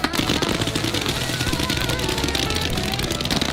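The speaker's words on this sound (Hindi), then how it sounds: "मैंने बस रैंडम पटाखे खरीदे थे, सोचा नहीं था इतना बवाल मच जाएगा" Firecrackers bursting in rapid, crackling volleys at a Fourth of July outdoor celebration, a loud continuous stream of sharp pops with shouting voices mixed in.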